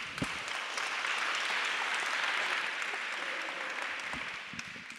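Audience at a French public health conference plenary session applauding panel participants, a sustained, even wash of clapping heard from a distance, quiet and unbroken.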